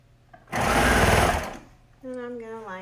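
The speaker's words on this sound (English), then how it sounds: "And I'll sew it there." A sewing machine runs for about a second, stitching the shoulder seam of a kids' hoodie with a loud, fast rattling buzz, then stops. Someone speaks briefly before and after it.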